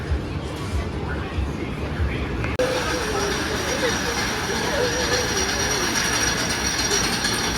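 Whizzer family roller coaster train at Six Flags Great America, a continuous clattering, ratcheting rumble of the cars on the track, close and loud, with riders' voices mixed in.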